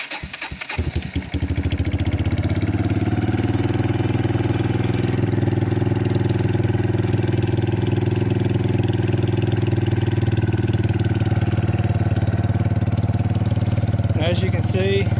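A Kawasaki Bayou ATV engine with a slight exhaust leak starts with a burst of cranking, then settles into a steady, fairly quiet idle, close up and running alone to the end.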